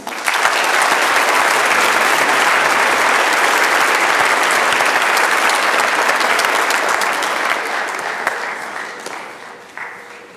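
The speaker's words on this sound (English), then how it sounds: "Let's give a round of applause for our placements." A large crowd at a high school Veterans Day program claps in sustained, dense applause that holds steady for several seconds before gradually fading out.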